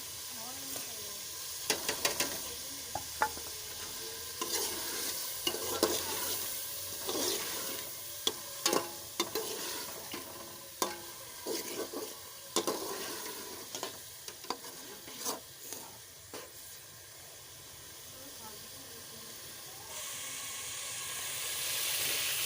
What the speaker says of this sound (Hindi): अब इसमें डाल देंगे हम ये दाल जो हमने भिगो के रखी हुई थी, ये सारी हमने इसमें डाल देनी है। इसमें इसको भी हमने भूनना है अच्छी तरह से।